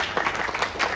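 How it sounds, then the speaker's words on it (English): Schoolchildren at an assembly clap together in a brief, lively burst of applause, a quick flurry of overlapping claps that stays steady for about a second. "Let's applaud for ourselves."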